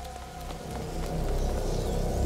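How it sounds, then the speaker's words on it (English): Rain falls steadily in the video game A Plague Tale: Innocence, a soft continuous wash of patter with a low rumble underneath, rising slightly through the short stretch. "Lucas, Hugo, stay out of the rain."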